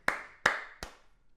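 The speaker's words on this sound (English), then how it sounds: "Round of applause for Thomas" A few slow, sharp claps from a single person or small group, three distinct hits spaced about a third of a second apart, close and moderately loud, with no talking over them.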